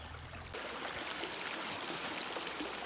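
River water streams steadily in the Philippine countryside, a dense, close rushing flow that starts abruptly after a quiet moment and continues without pause.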